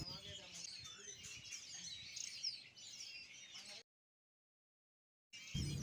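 An oriental magpie-robin (kacer) chick gives rapid, overlapping high chirps for several seconds, then falls silent, with a brief burst of sound returning at the end.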